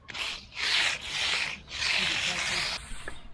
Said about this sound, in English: as I mag that surface out, it even sounds like it's pretty firm